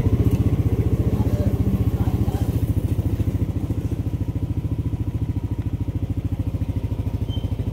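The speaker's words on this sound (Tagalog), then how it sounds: "namamatay ang makina ng motor" A motorcycle engine with a starting fault chugs close by in an even, rapid putter. It loses some strength as the clip goes on, as if it is about to stall.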